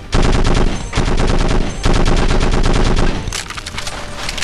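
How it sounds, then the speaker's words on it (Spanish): Heavy automatic gunfire in the Conflict: Desert Storm 2 video game, loud close bursts of rapid shots separated by brief gaps, ending in a lighter, thinner stretch of firing. "Hemos dado unos cuantos balazos."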